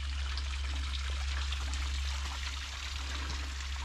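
River water trickles steadily around a small island on a long-distance countryside trail near Bath, a continuous, even rush of flowing water with no voices.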